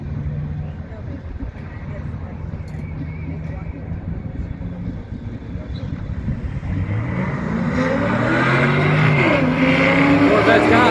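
A BMW and a Corvette street racing: a low engine rumble builds into loud, rising acceleration over the last few seconds, with people talking throughout.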